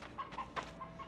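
A chicken clucks in short repeated bursts at moderate distance, fairly quiet, with no talking.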